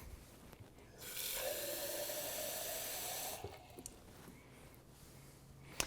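Tap water streams steadily into a glass for a couple of seconds, a broad rushing hiss that then cuts off, leaving quiet room sounds and small clinks.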